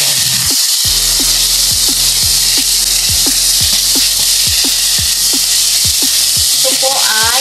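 Cabbage and egg stir-frying in a pot give a steady, loud sizzle, with a utensil scraping and knocking against the metal in a regular rhythm about every half second.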